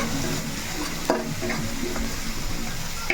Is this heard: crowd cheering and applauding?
no